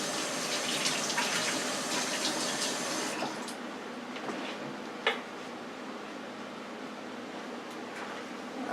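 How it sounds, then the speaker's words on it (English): Tap water runs steadily from a kitchen faucet while hands are washed beneath it before seasoning chicken for an air fryer oven, a broad continuous splash with a brief louder splash midway, no talk. "let me wash my hands"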